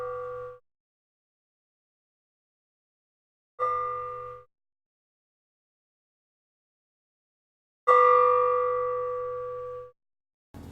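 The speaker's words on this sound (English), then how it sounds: "Going to hit the gong during the loading screens." A gong is struck lightly three times during Crash Team Racing Nitro-Fueled loading screens; each ringing tone decays into silence, and the last rings longer and louder.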